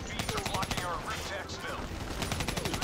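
Call of Duty Black Ops 3 campaign gunfire, rapid repeated shots rattling under a busy game soundscape with whooshing effects, fairly quiet in the mix.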